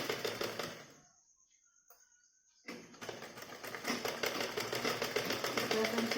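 A sewing machine stitching a blouse starts with a burst of running, falls silent for over a second, then resumes with a fast, even mechanical chatter that grows louder and continues to the end.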